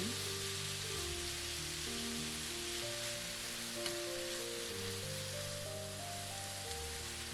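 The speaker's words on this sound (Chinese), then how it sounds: "然后我们在锅中再倒入2大勺香油，把剩下的牛肉也都放进来。" Beef sizzling in sesame oil in a pan for Korean bulgogi, a soft, steady, even hiss heard faintly and continuously under a gentle background music bed.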